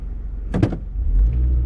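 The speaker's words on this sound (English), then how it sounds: "Truck just was behind me and then just drove through a gravel area with like a curb around it to turn the corner" Truck driving through a gravel area and over a curb, a sharp brief clunk and crunch followed by a rising low engine rumble as it pulls away close by.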